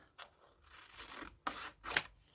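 Scissors trimming a wobbly edge straighter, a few short close snips and rasping cuts separated by brief pauses.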